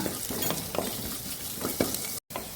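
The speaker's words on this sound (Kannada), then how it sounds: "ಸೊ ಇದನ್ನು ಬ್ರೌನ್ ಕಲರ್ ಬರುವ ತನಕ ಹುರಿದುಕೊಳ್ಳೋಣ" Onions sizzle steadily in hot oil in a pan, with scraping stirring strokes recurring in an uneven rhythm. The frying is close and unbroken apart from a momentary dropout.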